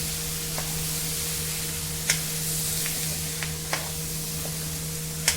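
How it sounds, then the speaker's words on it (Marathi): Green peas being sautéed with spices in a pan give a steady low sizzle, with a few light clicks of a spoon against the pan scattered over it, close and fairly quiet, with no talk. "ते छान असं आता परतून घ्यायचं।"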